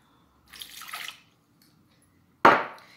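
Water is poured into a pan while a vegetarian beef-style dish is being cooked, giving two short, splashy pours: a soft, fizzy one, then a sharper, louder splash that fades out, with no talking.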